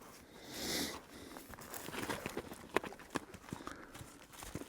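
A young horse trotting outdoors during groundwork, its hooves making faint irregular clip-clop strikes on the ground, with a rustling swish early on and a soft background.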